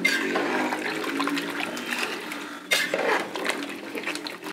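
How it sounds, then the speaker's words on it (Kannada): Hot water is poured from close by into a cooker of village-style country chicken curry, a steady rushing splash that runs throughout and briefly surges louder near the end, with no talk. "ಬಿಸಿನೀರು ಹಾಕ್ತಾ ಇದ್ದೀನಿ ಬೇಗ ಆಗಲಿ ಅಂತ."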